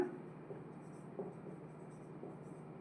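Someone writes out a math expression by hand, faint, steady scratching strokes with a few slightly louder taps.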